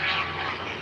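A 2015 Corvette roars past at high speed during an airstrip drag race in Hondo, Texas, heard as a brief, loud, broadband engine rush.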